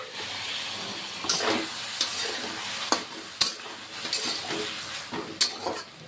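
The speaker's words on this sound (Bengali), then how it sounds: "এবার আরেকটু কষিয়ে নিব মিনিট দুয়েক" Ground mustard spice paste with a splash of water sizzles steadily in a pan, with scraping stirs and a few sharp utensil knocks against the pan, close and alone.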